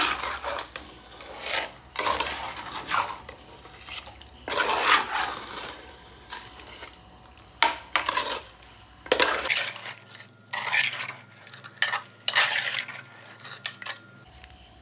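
Chicken being mixed with turmeric and salt in a pan, with repeated clinks and scrapes of a utensil on the pan at an uneven rhythm, close and moderately quiet, no talking.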